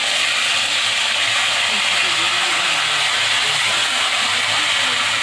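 Ginger paste and tomatoes hit a hot pan for vegetable khichuri, giving a steady loud sizzle and hiss that runs without a break.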